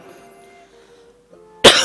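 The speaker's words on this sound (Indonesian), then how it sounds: "sorry saya agak batuk ya" A single loud, sharp cough bursts out at the end, following a stretch of quiet background hum.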